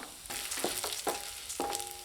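Lentils sizzle steadily in hot oil over a medium flame, a constant crackling hiss broken by a few clinking stirs of a utensil against the pan.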